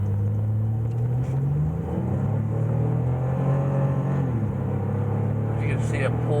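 Car accelerating from a standstill up to 60 mph on worn tires, its engine note rising steadily and loud throughout as a sustained in-cabin rumble, with the pitch dropping briefly at a shift before climbing again.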